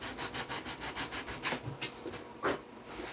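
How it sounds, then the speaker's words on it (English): Light sanding on the canopy of an R/C model airplane, a Sig Kougar, heard as soft, rapid rhythmic rubbing strokes, close and quiet, slowing into a few scattered scrapes. "I'm just barely touching it, trying to sand it in here."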